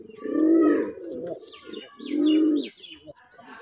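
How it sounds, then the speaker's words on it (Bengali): A male Raj Golla pigeon coos up close in two long, low, rolling calls separated by short pauses, with faint chirps and rustling between them. "দেখেন নর কিভাবে ডাকতেছে এবং ওর ডাকানের স্টাইলটা দেখেন"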